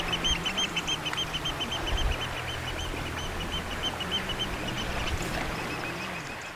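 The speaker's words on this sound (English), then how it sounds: "The rocks down here are much favoured by noisy oyster catchers." Shrill, repeated calls of oystercatchers on coastal rocks ring out in quick bursts over a steady background rumble, piping on and off throughout.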